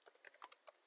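A short, quiet burst of typing on a computer keyboard: about a dozen quick, irregular key clicks heard close and alone in under a second.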